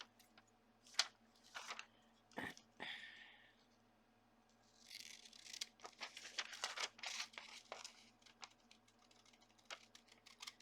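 Paper or card being cut along a line by hand, with scattered snips and crinkles, then a longer run of quick rustling cuts and handling noises close by against a low steady hum.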